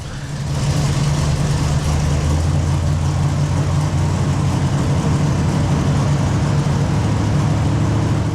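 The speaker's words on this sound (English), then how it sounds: "I corrected the timing, the idle speed came way up, we were about 1100 RPM." A 1968 Chevrolet Camaro engine idles at about 1100 RPM after a timing correction, giving a loud, steady, close rumble that holds without change for the whole stretch.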